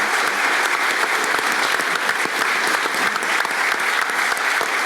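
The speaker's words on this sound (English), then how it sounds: "I would still like you to applaud these people" Steady, dense applause from a conference audience honoring humanitarian panelists, loud and continuous throughout with no pause.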